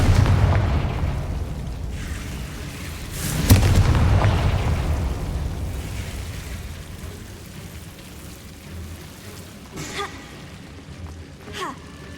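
A Confringo fire spell is cast in the video game Hogwarts Legacy, giving one loud, close explosive burst that fades into a long rumbling tail, followed later by a few fainter pops.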